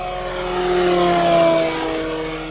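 A large E-flite Carbon-Z Cessna 150T RC model plane's electric motor whines at full throttle, rising and then falling away as it passes by, steady and fairly loud.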